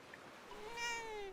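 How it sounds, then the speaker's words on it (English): A single cat meow from Dragon Quest 7 Reimagined, a clear rising and falling cry about a second long, fairly faint and alone. "Oh, yeah, you get to pet the kitty."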